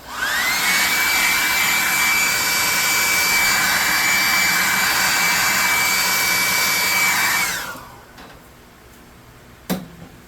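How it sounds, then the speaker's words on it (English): A hairdryer blows loudly and steadily with a high whine, then switches off and winds down, followed by a brief knock. "Let's hit this with a hairdryer too"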